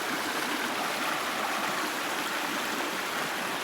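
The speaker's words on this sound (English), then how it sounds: "the sound of the waterfalls is finally dissipating" A wilderness waterfall in Temagami rushes in a steady, dense, broadband roar that stays constant and close, with no voices.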